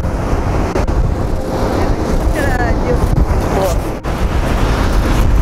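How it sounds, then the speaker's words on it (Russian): Storm surf rolling in toward a damaged seafront embankment, a constant loud roar of waves with heavy wind buffeting on the microphone and a few brief dropouts. "Ну и такой накат сейчас прямо в нашу сторону."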